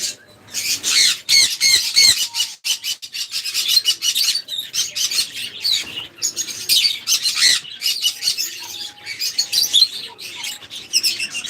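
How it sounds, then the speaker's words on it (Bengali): Many budgerigars chatter and chirp continuously up close at a breeding farm, a busy overlapping mix of tweets, scratchy squawks and warbles. "এগুলো হলো বাজরিকার পাখি"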